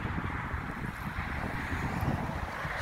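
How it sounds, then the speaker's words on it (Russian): Strong wind in Minneapolis roars steadily into the microphone, a loud, continuous buffeting rumble with no let-up and no voices. "вот его сейчас раздует, потому что ветер сильный, ужасно сильный"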